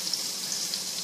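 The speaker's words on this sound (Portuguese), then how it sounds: "Aí agora aqui eu tenho meio óleo poró e vou colocar aqui pra dar uma refogadinha" Leek sautés in olive oil in a pan with a steady, close, crackling sizzle that stays even throughout.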